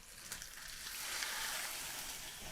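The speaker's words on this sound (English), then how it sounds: "You can hear that sizzling." Browned food sizzles in a cooking pot with a steady, soft, broadband hiss and faint crackle, alone and moderately quiet throughout.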